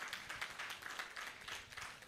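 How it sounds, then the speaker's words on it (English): A symposium audience applauds at a human rights and sexuality law event, with a faint, distant, steady patter of many hands clapping throughout, and no voices. "So please, another round of applause for these people."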